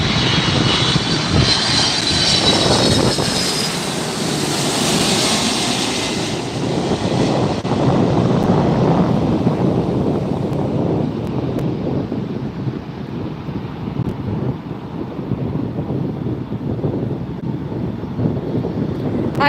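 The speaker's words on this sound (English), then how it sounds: "From JFK, a 767 300 series ER, Delta Airlines flight" A Delta Air Lines Boeing 767-300ER arriving from JFK lands at LAX, a loud, continuous jet engine roar that swells, then slowly fades and lowers in pitch as the aircraft passes close by.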